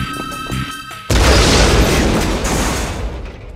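A charge detonates in Jak 2: Renegade with a sudden loud boom that cuts in over quieter game music and rolls into a long, dense rumbling blast lasting several seconds.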